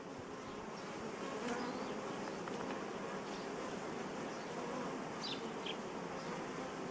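Steady, dense buzzing of many honey bees around an apiary hive, continuous and fairly close, with no voices.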